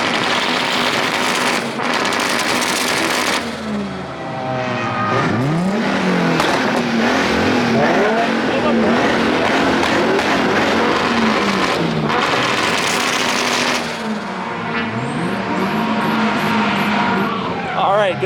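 A V6 Ford Mustang drifts on a track, its engine loudly revving and swooping in pitch through repeated slides, with tire noise and voices talking over parts of it.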